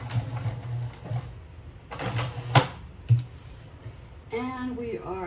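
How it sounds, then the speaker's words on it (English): A sewing machine stitches fabric for a shoulder bag in short close bursts of whirring hum, broken by a couple of sharp mechanical clacks, and a voice talks near the end. "now that we've finished stitching here on top"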